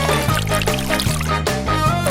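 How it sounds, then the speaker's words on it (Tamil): Cherry-flavoured water, mixed from jelly, pours steadily into a straw, a close, continuous liquid stream with a faint trickling texture throughout and no talk. "அதை தண்ணீருடன் கலக்கி ஸ்ட்ராவில் ஊற்றுகிறேன்."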